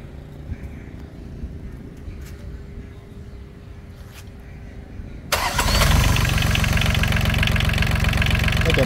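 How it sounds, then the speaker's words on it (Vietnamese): A Yanmar 3T63 diesel engine cranks and catches, quiet knocking and background noise giving way to a loud, steady close-up idle that runs on to the end. "Đem máy cho quán chị em nghe tiếng máy"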